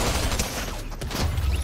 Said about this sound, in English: I'm getting shot from somewhere, I think.